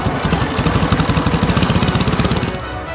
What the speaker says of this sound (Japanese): アクセル煽って